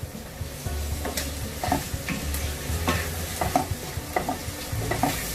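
A spoon stirs spices and softening tomatoes in a pan for prawn malai curry, making repeated scraping strokes at an uneven rhythm over a steady low sizzle, close and fairly loud.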